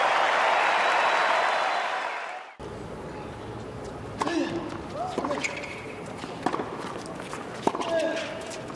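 Tennis crowd applauding and cheering for Federer in a match against Djokovic, a dense burst of clapping that cuts off abruptly after a couple of seconds, followed by quieter court sounds, footsteps and a commentator talking.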